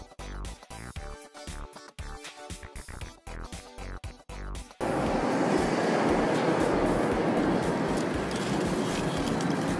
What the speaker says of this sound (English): We're about to ride the first public train on Raging Bull